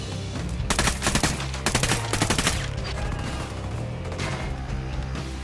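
Heavy gunfire in the video game Ghost Recon Wildlands during a jungle mission: dense bursts of rapid automatic shots in several loud clusters, with a continuous backdrop of game music and ambience.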